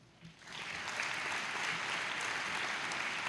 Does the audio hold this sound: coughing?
no